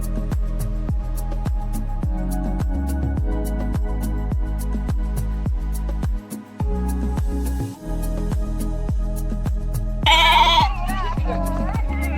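Many sheep bleat close by as they are given medicine, overlapping calls over a steady rhythmic ticking, with a louder single cry near the end.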